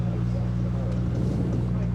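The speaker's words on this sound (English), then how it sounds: "I could hear the tyre roar more than the engine noise" A Mercedes 300SL race car passes at speed, a dense steady roar dominated by tyre noise over a low engine drone, loud and continuous for the brief moment.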